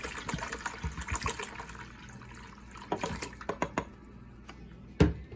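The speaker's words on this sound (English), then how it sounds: "So I just pour my 6 cups of warm water in." Six cups of warm water poured into a large mixing bowl for a big batch of wheat bread, soft splashing and trickling with scattered clinks and a sharper knock near the end.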